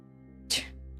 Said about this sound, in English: Okay, so I am sneezing.